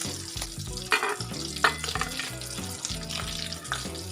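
Potato vada balls frying in hot oil for batata vada, a steady close sizzle and crackle with occasional stirring clatter and no voices.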